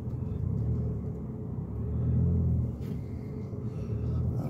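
Car engine idling and rolling steadily at low speed during a parallel parking manoeuvre, pulling out alongside another parked car; a continuous near rumble with a slight swell midway, no talking.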